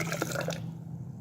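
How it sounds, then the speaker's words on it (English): Water poured from a measuring cylinder into a lab sink, a short splashing trickle lasting about half a second, then fading to a quiet hum. "you can drop some water into the sink"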